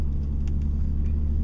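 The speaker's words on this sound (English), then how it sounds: "Going on a car ride." Steady low rumble of a car in motion heard from inside the cabin, a constant loud drone with no breaks and no voices.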